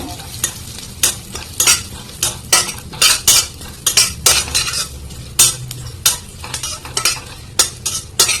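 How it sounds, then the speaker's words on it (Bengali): Ghee and white oil heating in a pan on the stove, a low background sizzle punctuated by repeated sharp metallic clinks and scrapes of a spoon against the pan in an irregular rhythm. "তারপরে দিয়ে দিচ্ছি একটু সাদা তেল। তেলটা একটু ভেজে নেব।"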